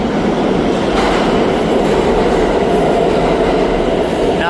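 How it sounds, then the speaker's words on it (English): New York City subway train arriving at a station, a loud continuous rumble of rolling wheels and clatter with a faint squeal near the end, close by and with no voices. "The train coming there."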